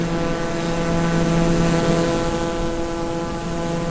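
A Cirrus propeller aircraft engine drones steadily in Microsoft Flight Simulator 2020 while descending in snow, a loud constant tonal hum with stable harmonic whine and no talk.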